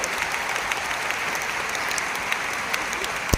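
A large audience at a concert in Malaysia claps in a steady, dense wash of applause, with a few sharper individual claps standing out above the crowd.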